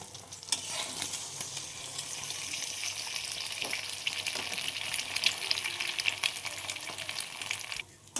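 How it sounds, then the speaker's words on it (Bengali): Egg frying in a wok for egg pasta, a dense, close crackling sizzle with bursts of spattering and stirring that continues steadily until it cuts off at the end. "এখন আমাদের কড়াইতে ডিমটা ভেজে নেওয়া হচ্ছে"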